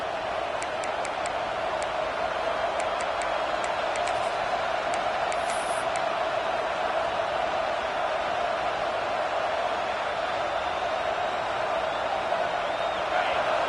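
A stadium crowd in a football video game roars as a steady, dense wash of noise, sustained throughout without breaks, with faint whistle-like tones early on.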